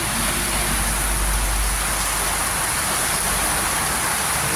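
Heavy rain with large raindrops falling during flooding, a steady dense hiss that stays constant and fairly loud throughout with no talking.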